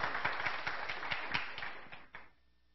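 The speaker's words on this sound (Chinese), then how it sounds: "再次拍手欢迎何晨跟菊梅" Church congregation at a Sunday service clapping to welcome two speakers, a short dense burst of applause with sharp individual claps that fades out after about two seconds.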